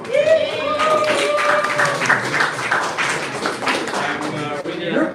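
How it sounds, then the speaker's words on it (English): A round of applause for a presenter at a startup awards ceremony, clapping that swells and holds steady under background voices and a brief tonal sound near the start. "Please give a round of applause to Mikel."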